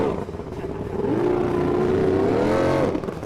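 A racing powerboat at a riverwalk regatta roars past with a rising, motorcycle-like engine whine that swells and holds loud before climbing in pitch and dropping away.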